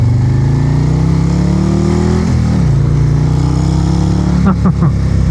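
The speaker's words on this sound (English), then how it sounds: "the V-twin just has such amount of power right out of the gate" Harley-Davidson 2024 Road Glide CVO ST with a Stage IV 135 V-twin accelerates hard on the road, a loud, close engine note climbing steadily in pitch, then a brief drop and a couple of sharp pops near the end.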